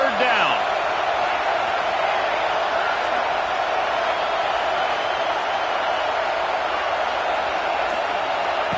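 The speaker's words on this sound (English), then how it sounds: "Here comes the noise from this big crowd in Happy Valley on third down." Stadium crowd roar on third down in Happy Valley in the College Football 26 video game, a loud, sustained wash of cheering that holds steady throughout, with a commentator talking over it.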